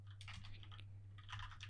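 A command is typed on a computer keyboard in two short quiet bursts of soft key clicks over a low hum, with a brief pause between them.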